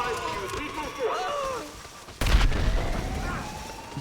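A sudden loud boom erupts partway through a Minecraft game session during a live charity stream, following quieter in-game sounds, with a rumbling tail that lingers afterward.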